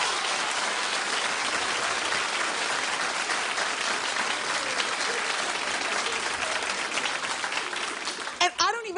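Studio audience on a daytime talk show clapping in a sustained, dense wash of many hands, loud and steady before tapering near the end, with a voice cutting in briefly at the close.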